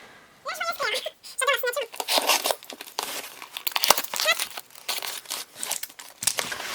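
A Birchbox beauty box for July and August is unwrapped, its packaging crinkling, rustling and tearing close up almost continuously while someone talks over it.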